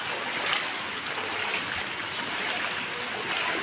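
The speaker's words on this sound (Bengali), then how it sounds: "দোকানের ভেতর জল ঢুকে যাচ্ছে" Floodwater after cyclone Remal flowing into shops in Howrah, a steady broadband rushing and trickling wash that holds constant throughout with no voices.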